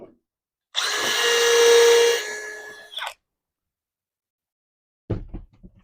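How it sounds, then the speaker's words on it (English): A power drill bores into pear wood in a single burst of about two seconds, whining loud and close before spinning down, followed by a brief clatter as the bit is handled. "Let me get the other drill bit here."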